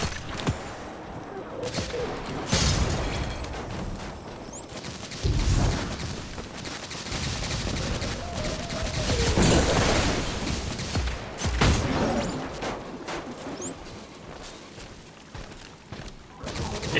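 Machine-gun fire from the shooter game Destiny 2 rattles in dense, repeated bursts with booming impacts, loud and continuous across the clip amid layered game effects.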